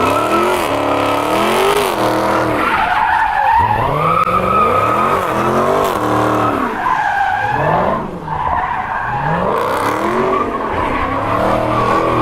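Tires squeal and skid continuously as a 600 hp Dodge Scat Pack engine revs hard in downtown Houston, loud and close, with the screech rising and falling in waves.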